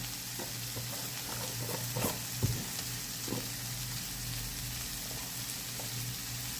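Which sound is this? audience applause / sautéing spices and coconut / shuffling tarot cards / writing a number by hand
sautéing spices and coconut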